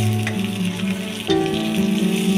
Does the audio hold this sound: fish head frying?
yes